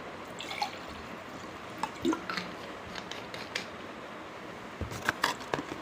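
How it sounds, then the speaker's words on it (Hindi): Water poured slowly into a glass, heard as soft intermittent drips and small splashes close by, growing busier toward the end. "पाँच बूंद डालिए और आराम से इसमें आधा ग्लास डालिए पानी"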